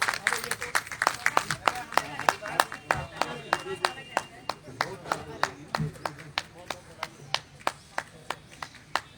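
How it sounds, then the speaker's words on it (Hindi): An audience claps at a poetry gathering and honouring ceremony as Sudha ji is honoured. The claps are steady and rhythmic, a modest crowd close by, with a voice speaking over them. "अरे ताली बजा दो, सुधा जी का सम्मान हो रहा है।"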